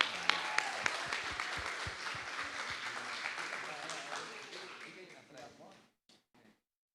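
Applause from a church audience at a special worship service, with scattered sharp claps at the start, a sustained round through the middle, then a fade to a few isolated claps and silence.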